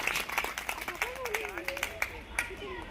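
Crowd at a Shiv Mahapuran katha religious gathering claps in quick uneven bursts beneath someone speaking over a microphone.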